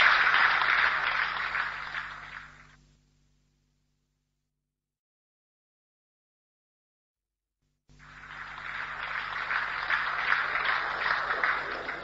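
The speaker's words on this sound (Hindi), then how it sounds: "तालियां हो जाए एक बार" Audience applause in a seminar hall, a dense burst of clapping that fades out, gives way to silence, then swells back up just as loud.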